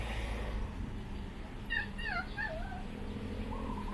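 Small puppies whimper and yip close by in a home, with high, wavering cries clustered in the middle of the clip over steady background noise.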